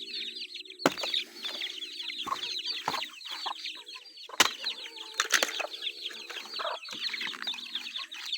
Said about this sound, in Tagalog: Pwede ka na magpakain ng manok dyan.